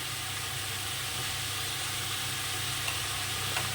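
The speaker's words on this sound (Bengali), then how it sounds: "এবার শাকটাকে আমি একটু ভালো করে কষে নেব" Gimi greens with prawns, salt and turmeric being stir-fried in a pan, a steady close sizzle and hiss with faint stirring scrapes, no voices.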